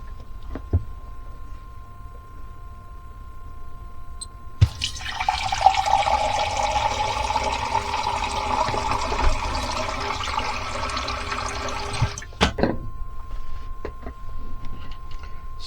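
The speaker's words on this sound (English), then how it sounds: "Here is a relatively standard, albeit somewhat low flow, faucet head. Let's see what the flow rate for this will be." Water pours from a standard low-flow faucet head in a steady hiss for about seven seconds, with a click as it turns on and knocks as it shuts off, and a quiet room before and after.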